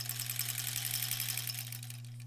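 A small beltless Singer-style sewing machine driven by a tiny wheel against a larger one runs steadily at close range, giving a quiet, even whirring hum with a rapid mechanical patter, ending abruptly.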